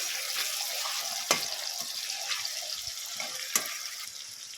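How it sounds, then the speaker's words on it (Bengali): Onion and tomato spice paste sautés in a pan for chicken do pyaza, making a soft continuous sizzle with a few sharp utensil knocks, and no one speaks. "মশলাটাকে কষিয়ে নেব পেঁয়াজ আর টমেটোটাকে"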